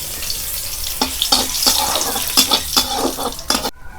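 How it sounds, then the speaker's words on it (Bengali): Whole chili, bay leaf, cinnamon and cardamom hit hot mustard oil in a kadai, giving a close, loud hiss and sizzle that spits in repeated sharp crackles before cutting off abruptly. "কড়াই তেলটা গরম হয়ে গেছে, এর মধ্যে আমি কিছু গোটা মশলা দিয়ে দেব"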